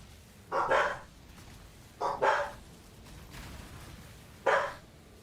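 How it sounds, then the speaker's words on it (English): A dog barking indoors, three separate loud barks spaced a second or two apart, close by with no talking. "What are you barking like right there for?"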